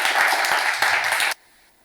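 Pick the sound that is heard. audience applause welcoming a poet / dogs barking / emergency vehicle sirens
audience applause welcoming a poet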